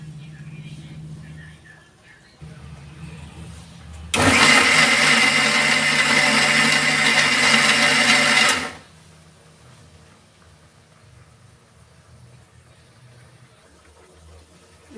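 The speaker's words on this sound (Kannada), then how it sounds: "ಇದು ಸ್ವಲ್ಪ ಕೂಲ್ ಆದಮೇಲೆ ಮಿಕ್ಸಿಗೆ ಗ್ರೈಂಡ್ ಮಾಡ್ಕೊಂಬರೋಣ" A kitchen mixer grinder runs loudly and steadily for about four seconds grinding roasted masala spices for a country chicken sambar, with quieter background noise and faint talk before and after.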